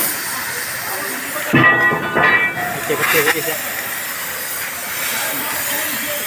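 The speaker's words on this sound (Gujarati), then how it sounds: "આવી રીતે કંઈક લગાડે વિશાલભાઈ કટિંગ કરે છે." A gas cutting torch slices through steel at the Alang ship-breaking yard, giving a steady hiss over a noisy yard, with a louder, harsher roaring burst lasting a couple of seconds partway through.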